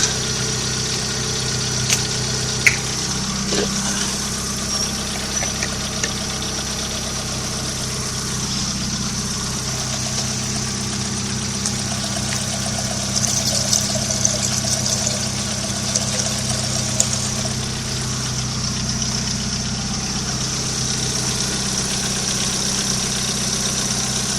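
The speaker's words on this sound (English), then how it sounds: "The idle's less pokey, which is great." A Vauxhall Astra Mk4 engine idles steadily and close by after a cam belt change, a continuous low hum with slight fluctuations and no talking.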